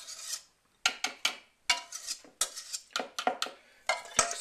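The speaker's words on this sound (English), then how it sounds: "this container is a bread proofing bucket. Which has a snap-on lid" Snap-on lid of a plastic bread proofing bucket being handled in a kitchen, a series of close, sharp scraping clicks and rubs in irregular bursts, with no talking.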